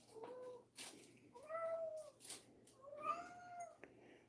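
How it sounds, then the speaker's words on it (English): A domestic cat meows repeatedly in the background of a quiet indoor resin-crafting workspace, several drawn-out, rising and falling yowls spaced a second or so apart, faint and slightly distant. "Now my cat is acting up in the background. If you hear the meowing,"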